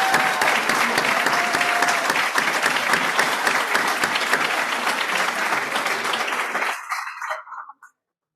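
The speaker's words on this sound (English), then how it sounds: "let's give them a round of applause." A room full of people at an alumni awards ceremony applauds steadily and loudly for several seconds, then the clapping thins out and fades to silence.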